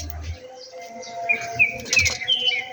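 Several birds chirp and tweet in short, bright calls, fairly close, with a low rumble at the start.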